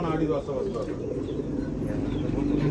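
Old pigeons, thirty to forty years old, cooing softly in low rounded calls across the clip, with background hum and a faint voice mixed in.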